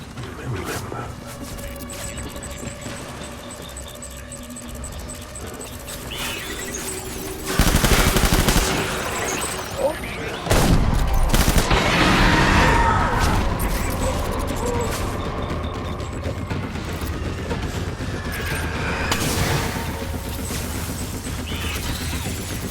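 Gunfire in the video game Death Stranding, a dense stretch of automatic shots and impacts over steady mechanical background noise, loudest from about the middle onward.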